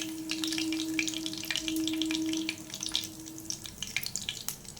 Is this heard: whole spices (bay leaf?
yes